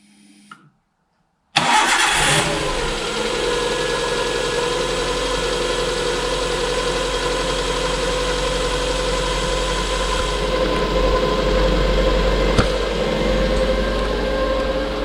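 A Suzuki Alto engine, freshly repaired after a cracked cylinder head, cranks briefly, fires up abruptly and settles into a steady, close idle that continues alone without talk.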